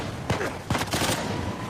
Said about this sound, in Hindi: गोली की तो आवाज आ रही है मुझे अभी भी